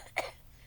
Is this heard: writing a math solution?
no